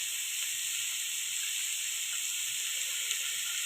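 Grated vegetables cook in a pan over a medium-low flame with a steady, even sizzle and hiss that stays constant and close for the whole stretch, with no talk.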